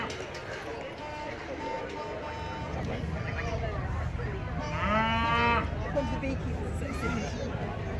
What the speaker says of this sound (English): So here are my favourite cows ever. Beautiful red poles.